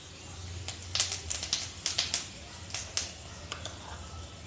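Cumin seeds sizzle and pop in hot mustard oil in a kadai. Faint, sharp crackles come irregularly over a soft background hiss at close range, with no speech.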